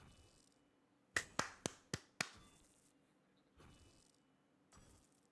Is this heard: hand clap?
yes